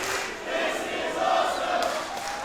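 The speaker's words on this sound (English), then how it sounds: "Crowd chanting, "This is awesome."" A wrestling crowd at a No DQ match chants in unison, a dense, loud roar of many voices that swells slightly midway and holds steady throughout.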